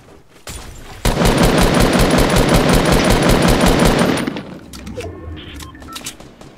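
A long, continuous burst of rapid automatic gunfire in Fortnite, loud and close, running steadily for about three seconds before cutting off into quieter background game sounds.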